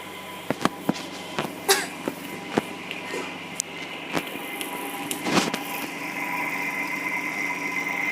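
An electric motor in a Lenz generator test setup, fed DC rectified from a variac's AC output, runs with a steady faint hum and whine, accompanied by scattered light clicks and knocks.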